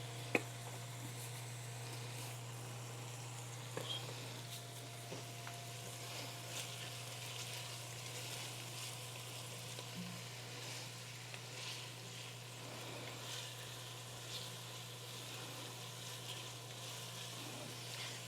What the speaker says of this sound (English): add an onion, sprinkle it with about half the salt, cook, stirring frequently for about 3 minutes